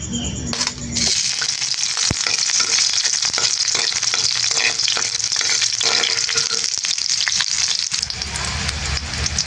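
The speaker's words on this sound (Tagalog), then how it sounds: "dito po ay magigisa na po ako ng bawang" Garlic sautés in a pan for ginataang bagongon, a coconut-milk dish, with a loud continuous sizzle broken by metal spatula clinks and scraping against the pan, all close up and without speech.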